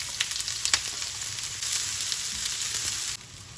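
Sliced onions hit hot oil with cumin seeds and sizzle steadily and close by, with a bright hiss and scattered crackles that drop slightly near the end.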